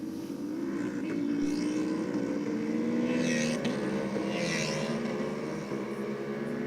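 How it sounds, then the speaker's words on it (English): Engine of a drag racing car with a slipping clutch, a rising and wavering mechanical drone that sweeps upward in pitch over several seconds, heard at a moderate distance with no speech. "was that a slipping clutch I heard down the bottom there?"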